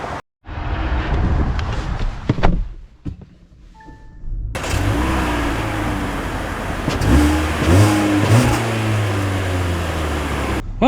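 A 2025 Kia K4 EX compact sedan accelerating from a stop, its mid-pitched engine note climbing steadily after a brief quiet moment, with rising and shifting tones under loud road and cabin noise, heard from inside the car.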